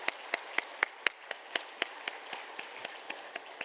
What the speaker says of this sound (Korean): 우리 감사와 격려의 박수 한번